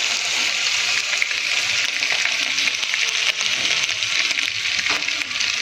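Ginger-garlic paste sizzling steadily in melted butter in a pan, a dense continuous frying hiss with no talk, held at an even level throughout.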